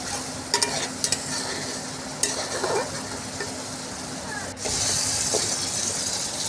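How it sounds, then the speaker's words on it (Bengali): Spice paste sautéing in a pan with turmeric, salt and a little water, for a fish-head muri ghonto, makes a continuous soft sizzle broken by scraping stirs and a few clinks of a utensil against the pan. "মশলাটাকে কষিয়ে নিচ্ছি।"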